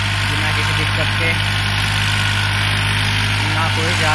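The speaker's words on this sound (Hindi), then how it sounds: "ट्रैक्टर तो बड़े आराम से प्यार से निकल रहा है बिना किसी दिक्कत के" A New Holland 3630 tractor engine runs at a steady, even idle-like rumble with a strong low hum throughout, close and loud, with no break.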